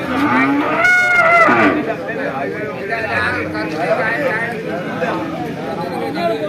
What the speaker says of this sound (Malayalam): രണ്ട് പോത്ത് കുട്ടികളൊക്കെ ഉണ്ട്